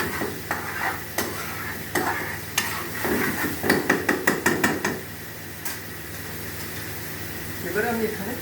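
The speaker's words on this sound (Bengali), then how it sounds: "মোটামুটি এটা কষাতে কষাতে যখন মশলাটা তেল ছাড়বে সাইডে" Spice paste fries in oil for a pabda fish curry, a ladle scraping and tapping the pan in a rapid run of knocks over a constant sizzle, with a voice talking in places.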